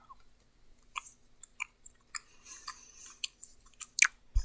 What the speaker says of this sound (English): Some chewing ASMR.